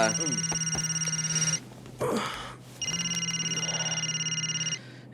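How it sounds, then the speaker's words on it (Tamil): A telephone rings in two long electronic trilling bursts separated by a brief gap, close and steady, with a voice speaking briefly between the rings. "எடுறா ஃபோன் எடுறா."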